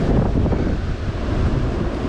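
Rough ocean surf and gusting wind at a beach in wild, stormy flood weather: a loud, continuous roar of breaking waves with heavy wind buffeting the microphone, and no voices.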